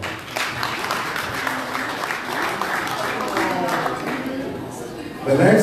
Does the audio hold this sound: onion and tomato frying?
no